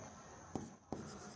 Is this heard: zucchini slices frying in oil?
no